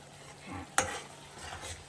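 Spices spattering in hot frying oil, a soft steady sizzle with one sharp crackling burst near the middle, close and alone.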